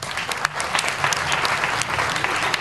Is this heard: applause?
yes